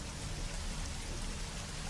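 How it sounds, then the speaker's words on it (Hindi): Heavy rain pours down on a stormy evening as a dense, steady hiss of countless drops, loud and continuous throughout with no voices. "एक शाम कड़कती बिजली चमकने के साथ साथ जोरों की बारिश हो रही थी।"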